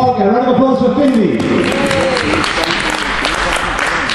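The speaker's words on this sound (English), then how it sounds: "Round of applause for Finley." A crowd at a foot-racing event claps for a runner in a lively burst of applause that swells in after an announcer's voice and carries through to the end.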